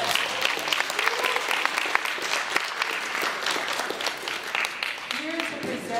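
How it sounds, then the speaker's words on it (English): A crowd at a flag-raising ceremony at Toronto City Hall for Marcus Garvey's birthday and Emancipation Month gives a sustained round of applause, dense and steady, with voices and cheers mixed in toward the end. "Can we please have a round of applause?"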